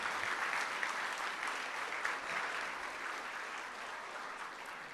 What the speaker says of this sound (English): how about we all give them a round of applause, too